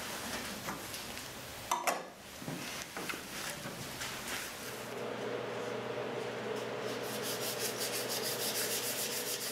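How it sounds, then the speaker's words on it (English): Sandpaper of 320 grit lightly rubs over a finished wooden dovetail keepsake box between coats, a close steady hissing scrape with a few knocks early on, then continuous even back-and-forth rubbing. "In between coats, I lightly sanded the whole box with 320 grit sandpaper."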